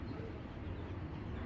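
Racer pigeons coo softly in a low, murmuring burble, close but faint and steady, with no talk over it.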